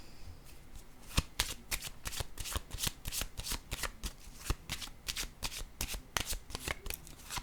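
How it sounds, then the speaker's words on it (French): Playing cards are handled and laid down on a table in a dense run of crisp, close snaps and riffling slaps, loud and steady throughout with no talk. "Je vais déposer une autre carte ici."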